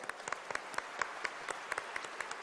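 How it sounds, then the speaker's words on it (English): Audience applause at the inaugural ceremony of the 47th International Film Festival of India, 2016: sparse, distinct hand claps from a moderate crowd, steady and fairly faint, with no talking. "Let's have a huge round of applause for each one of them"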